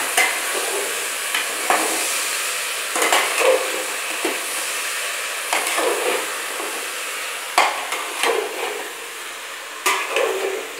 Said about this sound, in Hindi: आप इसे थोड़ी देर तक चलाइए।